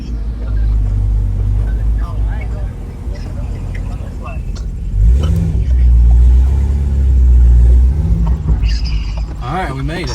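A C6 Corvette ZR1 drives with a deep low rumble that swells and surges as it accelerates, heard from inside the car with people talking over the engine.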